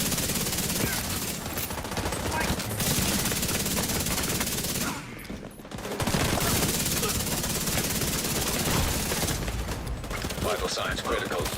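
Dense, continuous automatic gunfire from a video game pounds the player almost without pause, loud and close, with one brief lull midway before the barrage resumes.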